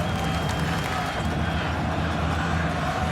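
A large crowd at BMO Field roars and cheers during a Canadian football game, Hamilton Tiger-Cats at Toronto Argonauts, a sustained wash of voices and noise filling the stadium without a break.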